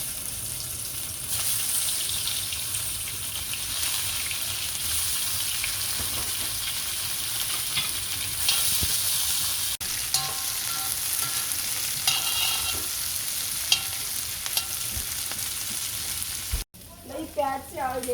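Onions and potatoes sizzle and crackle steadily in hot oil, a continuous loud frying hiss with occasional stirring scrapes, and a brief voice near the end.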